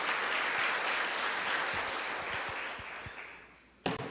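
A church congregation applauds during a priest's reflection, a dense wash of clapping that slowly fades over a few seconds before a sharp bump near the end.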